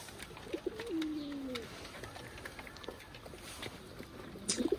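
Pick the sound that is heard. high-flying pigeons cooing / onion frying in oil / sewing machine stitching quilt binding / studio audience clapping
high-flying pigeons cooing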